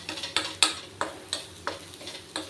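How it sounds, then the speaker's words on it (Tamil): Garlic is roasted in a little oil in a pan while a utensil stirs it, giving rhythmic scraping clicks about every half second over a faint, quiet sizzle. "பூண்டு நம்ம லெஸ் குவான்டிட்டி எண்ணெயில் தான் நம்ம வறுக்கிறோம்"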